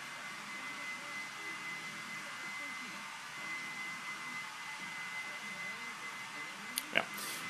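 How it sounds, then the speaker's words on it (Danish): A hair dryer blows steadily while drying hair in a bathroom, a loud, unbroken whooshing whir with a faint high tone, and a brief knock near the end. "Så Janni der tør hår i badeværelset"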